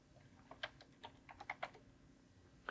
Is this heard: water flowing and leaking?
no